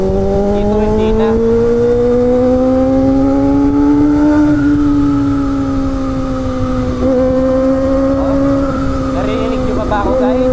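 A Kawasaki ZX25R 250cc inline-four sport bike screams at high revs, its loud, sustained engine note climbing and dipping slightly through gear changes, close and continuous while a rider talks over it.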